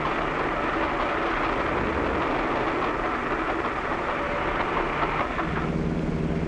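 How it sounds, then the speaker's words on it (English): A loud, steady rumble of a train rolling by close overhead on a railroad above a highway underpass, dense and continuous throughout with no voices. "A train is coming."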